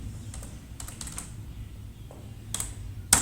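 Keys on a computer keyboard tapped in short scattered bursts while text is entered into a spreadsheet, fairly close, with a low steady background hum and no talk.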